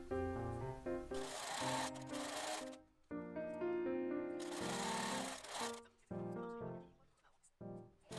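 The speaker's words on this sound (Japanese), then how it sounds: "縫い代1センチで縫い合わせて、縫い代を7ミリにカットします" A domestic sewing machine runs in bursts, stitching a collar seam with a 1 cm seam allowance for a patchwork pullover, with a steady mechanical whir that stops and restarts several times, with music playing underneath.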